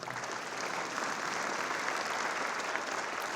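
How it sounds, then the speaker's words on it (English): Audience applause during a mayor's state of the city speech, a full steady wash of many hands clapping at once, sustained and even from start to finish. "You clap."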